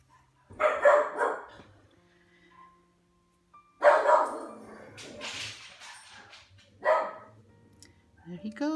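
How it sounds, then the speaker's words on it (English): A neighbour's dogs bark in three separate bursts of sharp, fairly close barks, each a few barks long, with quiet gaps between them. "There he goes again. The neighbor's dogs are out."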